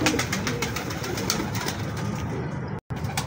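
A blue pigeon coos close by in a steady run of soft, repeated calls over a constant background hum that briefly cuts out near the end.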